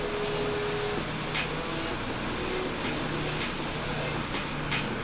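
Airbrush spraying paint in a steady, loud hiss that runs nearly unbroken for about four and a half seconds, then cuts off abruptly near the end, with a fan running nearby.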